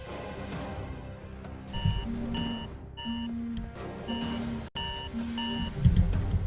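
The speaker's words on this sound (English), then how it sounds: "that's the alarm telling me to stop" A repeating alarm beeps in short, evenly spaced tones, sitting steadily over a faint background hum and low muffled noise at a desk.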